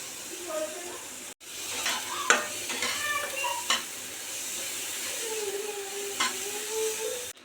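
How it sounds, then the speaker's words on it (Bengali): Rice sizzles in melted butter in a wok, with steady frying hiss broken by occasional scrapes and clinks of stirring, close and moderately loud. "কড়াইয়ে বাটার নিয়ে নিয়েছি, এবার চালটা ভেজে নেব।"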